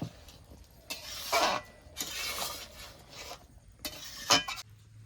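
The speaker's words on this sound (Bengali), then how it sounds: "এবার তরকারিটা একটু নেড়ে চেড়ে নেবো" Thin rohu fish curry being stirred in a cooking pot: a few separate bursts of scraping and clinking as the spoon works the pot, faint overall with quiet gaps between strokes, no talking.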